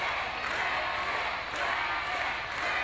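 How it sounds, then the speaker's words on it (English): A professional wrestling crowd at a championship triple threat match sends up a continuous, even roar of cheering, broad and distant-sounding with no clear breaks. "You can hear the respect of the crowd."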